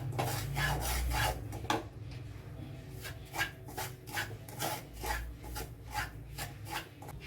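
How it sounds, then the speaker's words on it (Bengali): Semolina dry-roasted in a dry pan for spicy moong dal suji, with a spatula scraping and stirring in a steady, repeated rasping rhythm, fairly soft and close. "ঝাল সুজিটা তৈরি করার জন্য প্রথমে আমি সুজিটাকে একটু শুকনো খোলায় ভেজে নেব"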